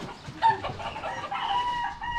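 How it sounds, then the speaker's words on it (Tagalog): A chicken clucks and squawks a few times in quick bursts, close by, over faint outdoor background noise. "Naku, magwawala manok."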